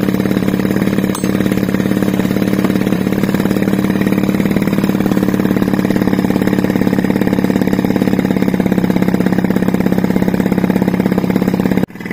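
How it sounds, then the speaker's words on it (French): Moped fitted with a Polini/Athena engine idling a little high just after starting, a loud, steady buzzing putter running close and unbroken before cutting off at the end. "Là, ça fonctionne. Je trouve que le ralenti est un peu haut."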